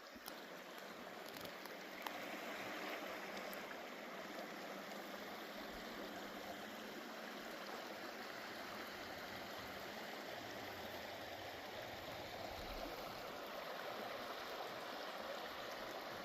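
The Little Firehole River, a stream at 7,200 feet elevation running through an old burn zone near Old Faithful, gives a steady, even rushing wash of flowing water with no voices.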